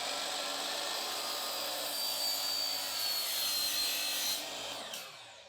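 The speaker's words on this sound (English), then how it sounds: "The first thing we need to do is cut off this little piece right here." A blast gate is cut with a power saw, a steady grinding, rasping whine that holds for several seconds and then tapers off as the blade winds down. The sound is close and moderately loud.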